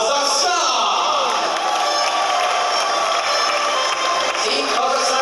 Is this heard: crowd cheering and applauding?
yes